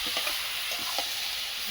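Meat sizzles steadily in a hot pan, frying close by, while a spoon stirs it with a few soft scraping knocks. No voices are heard.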